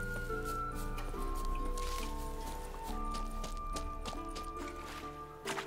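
Hooves of Roach, the horse in The Witcher 3, clopping in a quick running rhythm under steady game music, moderately loud, with no talking.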